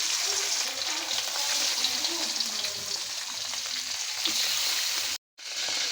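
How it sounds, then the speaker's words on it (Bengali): Nola fish frying in hot oil gives a steady, close sizzle with faint stirring noises, continuous for several seconds before a brief cut-out to silence and a quick return. "হ্যাঁ, বাকি মাছগুলো আমি এক এক করে ভেজে নিই।"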